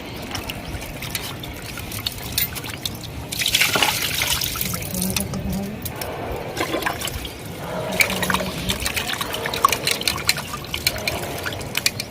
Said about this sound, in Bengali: ওই মাংসটা ভালো করে এখানে ধুয়ে নিচ্ছি